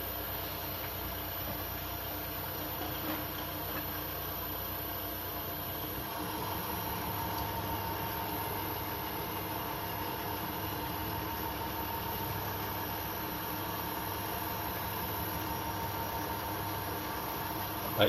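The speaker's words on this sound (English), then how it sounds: "I can feel some vibration coming from the right side of the motor." A 2.2 kW (3 hp) AC motor runs as a CNC milling spindle with some vibration, making a faint, steady electrical hum and mechanical drone that holds an even level throughout.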